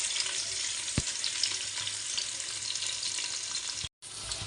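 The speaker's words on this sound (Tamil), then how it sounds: "இதோட வெங்காயம், பச்சை மிளகாய் சேர்த்துக்கலாம்." Onions and green chillies sizzle steadily in hot oil, a close crackling hiss with an occasional stir and a brief break near the end.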